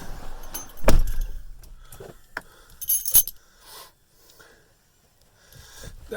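A set of truck keys jangles close by, a sharp clatter followed by lighter metallic clinks and a couple of knocks, then near silence before faint rustling.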